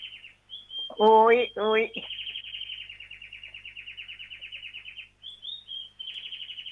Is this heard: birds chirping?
yes